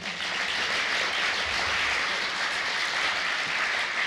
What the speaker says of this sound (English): If everyone here can give a round of applause to Ms. Williams here.